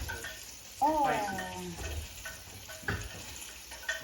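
Tomatoes fry in a pan with a steady, close sizzle, and a voice briefly cuts in early on.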